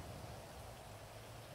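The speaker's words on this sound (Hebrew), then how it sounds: "גם יורד גשם" Rain falls in the GTA V roleplay video game as a soft, even hiss of steady rainfall, quiet and continuous, with no voices.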